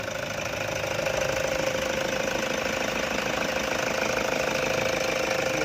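A Ventury engine idles steadily with a fast, even ticking clatter, close and continuous, no voices over it.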